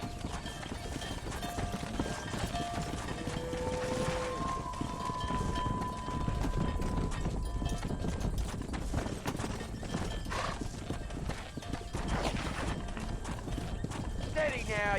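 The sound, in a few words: cattle herd and horses moving in Red Dead Redemption video game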